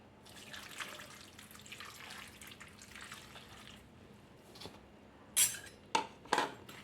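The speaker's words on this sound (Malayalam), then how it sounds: "ഇനി നമുക്ക് ആവശ്യത്തിന് വെള്ളവും കൂടെ ചേർത്തിട്ടൊന്ന് വേവിക്കാനായിട്ട് വയ്ക്കാം" Water is poured into a pot of koottucurry. Soft trickling is followed by three sharp, louder splashes near the end against a quiet kitchen background.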